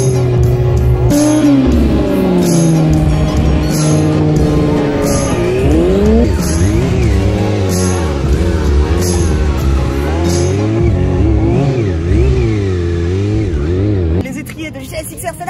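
A 636 motorcycle accelerates hard through first then second gear, its engine whining upward in sweeping rev climbs with a gear change, loud and close, before cutting off abruptly near the end.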